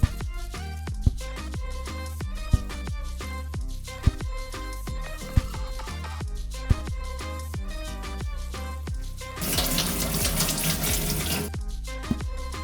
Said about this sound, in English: grab yourself around 300 gram of cherry tomatoes and give them a quick rinse.